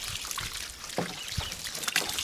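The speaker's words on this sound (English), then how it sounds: "I got a bit of water here. I'll just get this stuff moist here. Get a good soaking." Water is poured over soil in garden boxes during a thorough soaking, a steady close trickle and splash with a few brief louder splashes.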